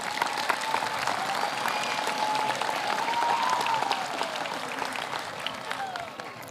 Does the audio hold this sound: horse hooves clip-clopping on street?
no